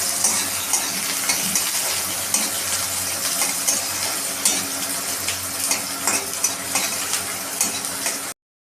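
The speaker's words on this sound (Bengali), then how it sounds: "এবার আমরা এটাকে একটু নাড়িয়ে নেব খুন্তি দিয়ে" Garlic and onion are stirred with a spatula in a hot pan for a cabbage chochori, with a loud, constant sizzle and frequent metallic scrapes and clicks that stop abruptly near the end.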